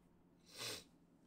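A single short sneeze from a person playing an undertoad Mario fight game, a sharp breathy burst in the middle of an otherwise quiet moment, alone with no speech.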